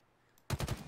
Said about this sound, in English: I can't believe I can shoot from this far with a bow rifle.